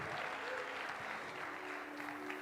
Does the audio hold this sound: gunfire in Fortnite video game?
no